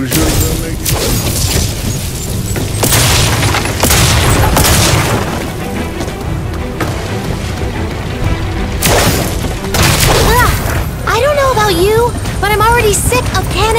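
Repeated booming explosions and crashing impacts from the Skylanders Imaginators video game, heavy blasts recurring throughout amid game music and effects, with talk over parts of it.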